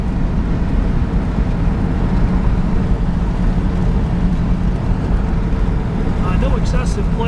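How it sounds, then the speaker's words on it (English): A 1971 Plymouth Cuda cruising on a country road gives off a steady, loud engine and road rumble that barely changes, with a faint higher chirp near the end. "The only audible noise we're hearing is a little bit of an exhaust leak coming out of the left rear bank."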